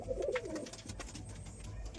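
Newly brought-home Madras pigeons give a soft, low coo right at the start, then quiet rustling fills the rest of the brief, faint moment.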